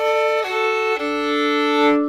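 Two sustained bowed fiddle chords played with a long bow, bright and full, the first brief and the second held longer before fading out.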